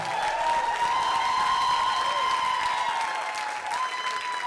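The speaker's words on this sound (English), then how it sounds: "Ladies and gentlemen, huge round of applause for Michael Carnevale." A comedy club audience applauds a comedian steadily throughout, a dense wash of clapping with a few cheers, loud and close, with no talking over it.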